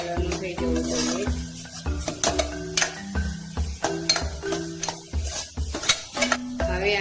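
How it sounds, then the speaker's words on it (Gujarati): Spice masala for chole stirred in a pan, a spoon scraping and knocking against the pan in uneven repeated strokes over a soft sizzle, close and clear, with no talking. "હવે તેને આપણે મિક્સ કરી લઈશું."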